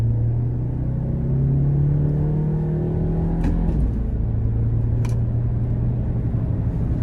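A 2018 Volkswagen Tiguan SEL with a 2.0 turbo four-cylinder pulls hard under acceleration, its engine tone climbing steadily through a gear and then dropping at a quick shift before rising again, heard from inside the cabin with no talking.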